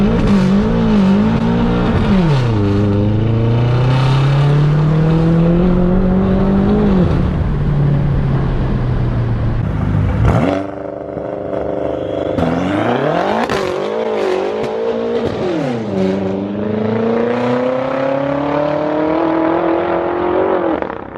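A BMW F10 M5 launches hard in Sport Plus with traction control off and manual mode engaged. The engine roars loudly and continuously, climbing through rising revs and gear changes, with a brief drop partway before pulling hard again. There is no talking.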